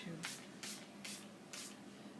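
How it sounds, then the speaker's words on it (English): Four quick spritzes from a spray bottle misting water onto a watercolor painting, short crisp hissing bursts spaced roughly every half second, close and clear over a quiet room. "to spritz this with just some water."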